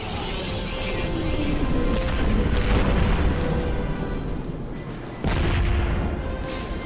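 A weapon is destroyed in a video game with a loud, sustained roaring explosion rumble, swelling and then hitting again with a fresh burst partway through.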